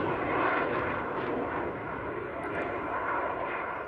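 Roar of an aerobatic display team jet climbing after lowering its landing gear at an air show in the United Arab Emirates, a loud, steady broadband engine rush sustained for several seconds.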